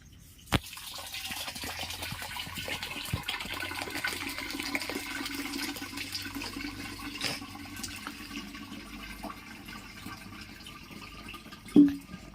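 Water drained from grated pumpkins pours and trickles into a bowl, a long steady splashing stream with a few sharp knocks of the bowl, one louder clatter near the end.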